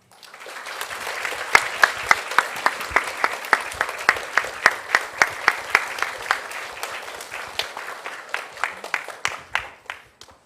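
At a 20th-anniversary church event, the congregation gives a big round of applause welcoming the pastor: dense clapping swells up, holds with sharp individual claps rising above it, then thins out toward the end.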